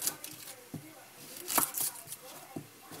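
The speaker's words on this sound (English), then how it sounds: "All you gotta do is just chop" A knife chopping Kruger onions on a cutting board, a few soft, irregular cuts spaced across the moment, with one sharper cluster in the middle, fairly quiet and close.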